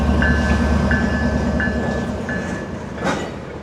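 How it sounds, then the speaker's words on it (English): A train crawls very slowly through a small South Carolina railroad town, its low rumble joined by repeated high squeals and clicks from the wheels on the track, fairly close and with no voices. "A train's coming through here and that gentleman jumped off."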